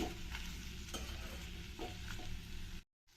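A fresh green pea gravy base frying in a pan, a soft steady sizzle with a few stirring scrapes, fairly quiet, ending in a short silence.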